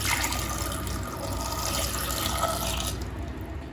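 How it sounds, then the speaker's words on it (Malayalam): Water pours steadily into a clay pot holding washed gooseberries, a close continuous splashing rush that thins out toward the end, with no voices. "ഇതിലേക്ക് കുറച്ച് വെള്ളം ഒഴിച്ചു കൊടുക്കുന്നുണ്ട്."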